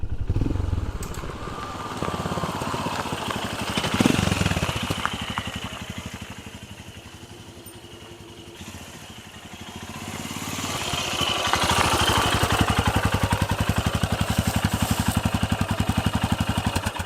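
Royal Enfield Himalayan motorcycle fitted with a Lextek exhaust, riding along with a steady throbbing thump that dips quieter midway and then swells louder again, close and continuous with no talk.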